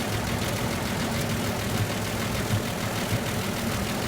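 A new generator engine idles at high speed with a continuous, steady drone and low throbbing hum, close by and unchanging throughout, with no voices.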